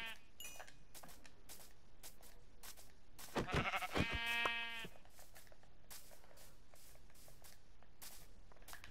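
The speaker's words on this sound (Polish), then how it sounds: "Chodź tu, owco." A Minecraft sheep gives one drawn-out, wavering bleat in the middle, among quiet blocky footsteps and clicks.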